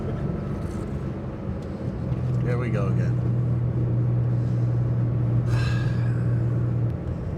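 A 1973 Porsche 911S coupe's engine drones steadily from inside the cabin while driving, a low rumble with a sustained tone, with brief talk from an occupant over it.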